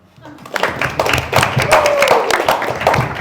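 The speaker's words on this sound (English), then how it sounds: "And one more applause for all of you here for being here" Listeners at an entrepreneurship panel event start clapping after a brief quiet moment, the applause swelling into a full, steady round of many hands that holds to the end, with a voice briefly heard within it.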